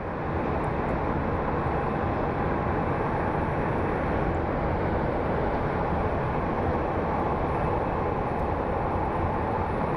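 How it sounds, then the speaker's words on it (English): A Delta Connection Embraer jet arriving at Phoenix Sky Harbor gives a dense, constant rumbling roar, even and unbroken throughout, loud and close with no voices. "we have our Delta Connect Embraer coming in from LAX."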